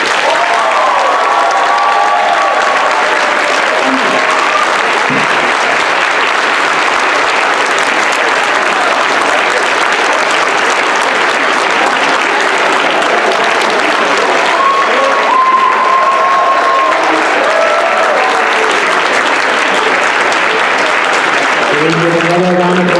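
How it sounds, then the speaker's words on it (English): A conference audience gives loud, sustained applause for a keynote speaker, a dense roar of clapping that stays constant throughout, with scattered cheers and voices mixed in. "Another round of applause for our speaker, please."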